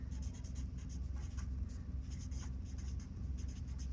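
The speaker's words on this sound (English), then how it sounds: "it would also be a good idea to write your name on the back" A pencil or pen writes a name on the back of a sheet of paper during an art class project, producing steady close scratchy strokes against a low background hum.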